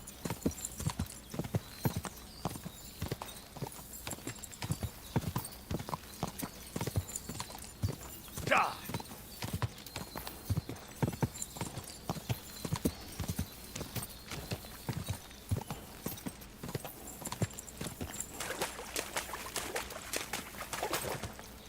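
Hooves of a ridden horse beat in the medieval game Kingdom Come Deliverance, an even, quick, continuous clip-clop at moderate volume, with a short whinny partway through.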